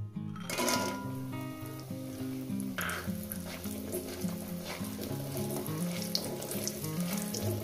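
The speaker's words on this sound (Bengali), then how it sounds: "বড়িগুলো আমি সুন্দর করে ভেজে নেব।" Lentil dumplings (bori) fry in hot oil in a pan, giving a steady, close sizzle with occasional louder crackles throughout.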